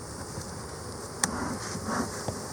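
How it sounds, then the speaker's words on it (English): Honey bees at an opened hive, a soft continuous buzzing hum close by, with a few faint clicks and knocks from handling the frames. "Lots more bees."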